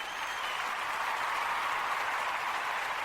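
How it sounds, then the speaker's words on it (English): Steady audience applause greets a podcast guest, a dense even wash of clapping holding at the same level for a few seconds with no voices. "Give him a round of applause."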